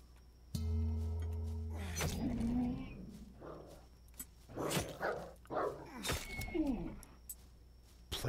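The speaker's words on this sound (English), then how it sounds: "Plague puppies can drop leather!" Plague puppies in the video game Dysmantle bark and snarl in a series of sharp, irregular bursts over game sounds, some loud and close.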